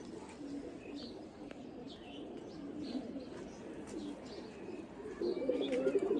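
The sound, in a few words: pigeons cooing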